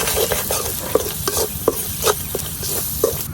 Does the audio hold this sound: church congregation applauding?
no